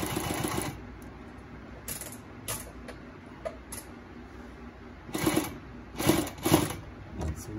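A Consew 146 zig zag walking foot sewing machine stitches in bursts of rapid mechanical clatter, with short pauses and handling noises between runs, close and fairly loud.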